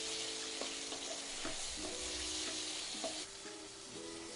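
Chicken pieces fry with onions and ginger garlic paste in a pan, giving a continuous soft sizzle broken by repeated scraping stirs, with no talking.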